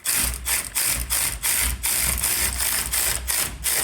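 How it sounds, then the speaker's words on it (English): A ratchet with a 3/8 hex bit turns a bolt on the front suspension of a 1994 Chevy K1500, giving quick, close, rhythmic bursts of clicking with brief pauses between strokes and no talking. "I'm gonna turn this bolt while I move it around and hopefully it'll catch into the threads"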